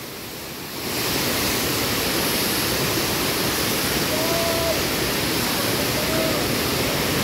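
Mother Falls in San Luis, Aurora pours in a dense, steady roar of falling water that swells up after a quiet first second and stays loud and constant, with faint voices underneath.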